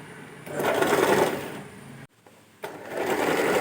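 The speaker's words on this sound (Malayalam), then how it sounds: "ഇനി നമുക്കൊന്ന് സ്റ്റിച്ച് ചെയ്തെടുക്കാം കേട്ടോ" Usha Janome sewing machine running steadily as it stitches fabric, a loud continuous mechanical whir that briefly stops and drops quiet before starting up again, with no talking.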